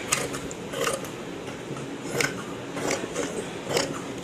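Scissors cut through blouse fabric along drawn lines, repeated crisp snipping and sliding blade strokes in a quiet room, a few cuts per second in uneven bursts, with no voice.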